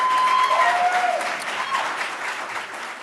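An audience at a school board meeting voting on a gender ID policy bursts into loud clapping with shouts and voices mixed in, the applause fading gradually toward the end.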